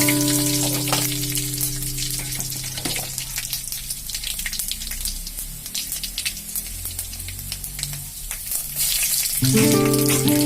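Loud crackling sizzle of panch phoron and two dried red chillies hitting hot mustard oil in a wok, a busy spattering hiss that stays steady, with a clink of metal near the start and end.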